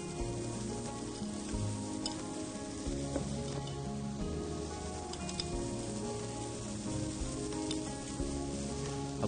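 Whole spices and garlic sizzle steadily in a hot pan for Omani thareed, a continuous dense frying crackle with occasional sharper pops and faint stirring, close and alone with no talk.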